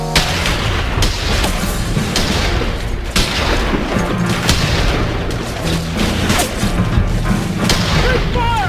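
A squad of rifles fires together on a military firing range, a dense, loud and continuous run of overlapping booms and cracks that barely lets up.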